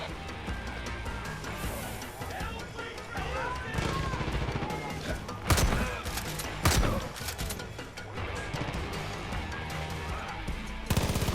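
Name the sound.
explosive charges going off like fireworks, from video game Far Cry 5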